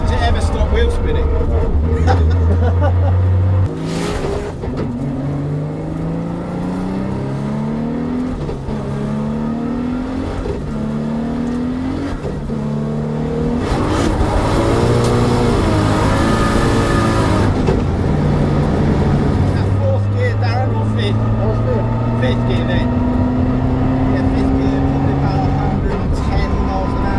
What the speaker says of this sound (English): Listen to the way that power comes in each time he upshifts.